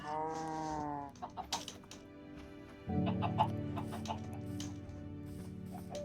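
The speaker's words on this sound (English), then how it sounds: "Many chickens, many cows." Several Minecraft chickens cluck and squawk in short, irregular bursts, with a steady droning hum underneath that grows louder partway through.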